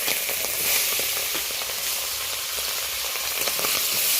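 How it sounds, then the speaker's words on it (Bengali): Small gule fish fry in smoking-hot oil in a kadai, a loud, dense, unbroken sizzle with fine crackling pops, heard up close and alone without any talking. "অল্প অল্প করে মাছ দিয়ে মাছগুলো বেশ লালচে করে ভেজে নেব।"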